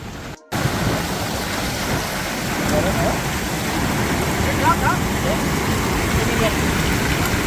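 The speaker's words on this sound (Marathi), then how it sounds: "आणि पाऊस पडतो बाजूला" Rain falls steadily beside a river in a heavy downpour, a dense continuous hiss close by that starts abruptly after a brief gap and runs on unbroken.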